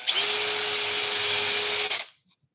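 Small drill bit boring through wood on a woodworking project, a steady high-pitched whine of the power drill running close for about two seconds before it spins down and stops.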